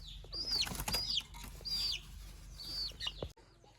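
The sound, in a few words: chicken flapping wings and clucking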